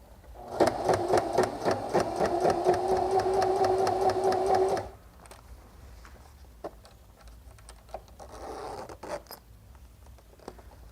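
A sewing machine runs a fast, rapid top stitch on a clutch purse for about four seconds, then stops, leaving quiet handling sounds and rustling.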